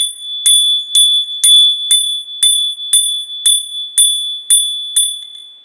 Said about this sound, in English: Sorry to ring the bell, but the bell helps clear out negative energy